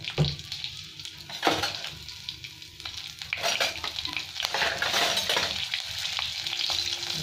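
Green chili and asafoetida sizzle steadily in hot oil in a home kitchen, with a continuous bright frying hiss broken by sharp crackles and spatters and occasional utensil stirring nearby.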